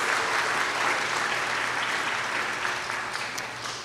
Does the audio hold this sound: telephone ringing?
no